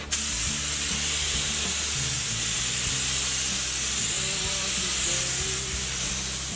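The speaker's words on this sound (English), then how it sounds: "we'll spray on some white" Spray can of white paint applied to masked bike parts, a steady, loud continuous hiss throughout.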